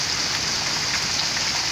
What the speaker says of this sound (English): Well, the rain has slowed down.